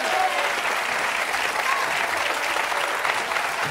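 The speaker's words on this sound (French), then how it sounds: "Nous applaudissons très très fort." A studio audience on the French TV game show Qui Veut Gagner des Millions claps loudly and continuously, a dense steady wash of applause filling the whole moment.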